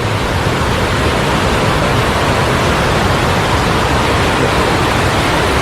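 Steady rushing water of a rocky stream below the Marmala waterfall in Kottayam, a loud, continuous broadband wash with no pauses, close by and alone with no voices.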